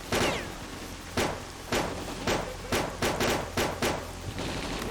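Gunfire cracks out in the video game S.T.A.L.K.E.R.: Clear Sky, a series of sharp shots in irregular single bursts over a constant background rumble, with no talking.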